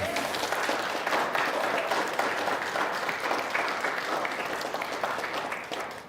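Audience applause for a departing board member at a community ceremony, a steady dense roll of many hands clapping throughout, moderately loud and sustained before tapering slightly at the end.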